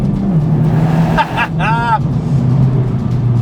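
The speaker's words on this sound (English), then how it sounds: "what I'm really enjoying when I'm pushing hard is that dump valve on the turbo, little whoosh" A 2018 Honda Civic Type R's turbo engine drones steadily on a road while a short dump-valve whoosh and whistle rise and fall briefly in the middle, with a voice murmuring underneath.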